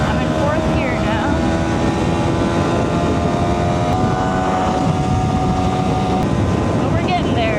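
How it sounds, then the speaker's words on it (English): A 125cc motorcycle revs hard in fourth gear on a highway, making a loud, continuous engine drone whose pitch climbs gradually, mixed with heavy wind rush and a voice talking over it. "So the thing about these 125s is you gotta rev the shit out of it."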